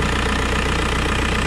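A 2003 VW Beetle TDI diesel engine idles with its check engine light on, a loud, steady, close rumble with a fine rhythmic clatter throughout.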